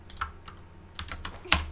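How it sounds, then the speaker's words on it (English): Scattered keystrokes on a computer keyboard, about half a dozen quiet, separate clicks with uneven gaps and one sharper tap near the end. "I mean, typing fast is good."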